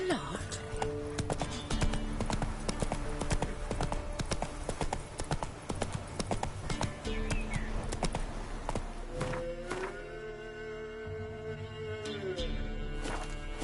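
Horse hooves clip-clop steadily through a Witcher 3 ride, a rapid continuous trot under a dense game soundtrack and scattered talk, with a brief whinny-like tone near the end.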